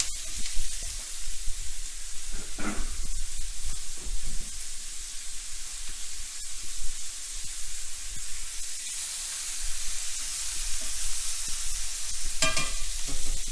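Chicken pieces sizzle and brown in a hot pan with a steady frying hiss, a utensil occasionally scraping and stirring them close by, with no talking.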